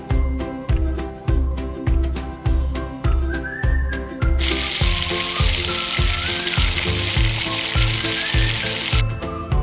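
Ginger and chopped capsicum fry in oil and butter in a pan for a cheesy Maggi, a steady loud sizzle punctuated by regular rhythmic stirring scrapes, with the hiss growing denser partway through.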